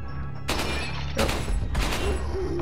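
Gunfire in the Resident Evil 4 video game: three separate loud, sharp gunshots, each a wide burst with a short tail, spaced about a second apart over low background game ambience.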